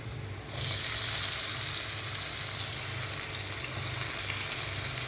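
Finely chopped onion hits garlic in hot oil for Marathi chakulya with a sudden loud sizzle that settles into a steady, close, continuous frying hiss.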